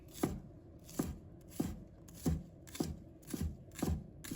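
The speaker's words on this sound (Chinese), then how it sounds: "把葱白和葱叶分开切，把葱白切成小粒" A knife chops scallion whites into small pieces on a board, seven steady, evenly spaced crisp knocks ringing out close and clear with no talk.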